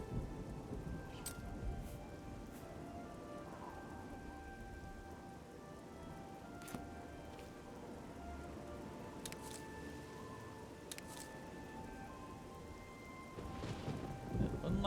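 Steady rain hisses and patters throughout an outdoor scene in the video game Oblivion, with soft distant rumbles and a few sharper drop sounds, while a person speaks faintly now and then.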